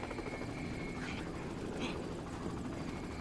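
An evacuation helicopter roars as a steady loud rotor and engine drone, nearby and continuous, with some faint background noise and no clear talk.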